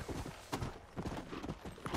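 Rhythmic clip-clop of horse hooves at a steady riding pace in Red Dead Redemption: Undead Nightmare, repeating evenly with soft thuds and no talking over it.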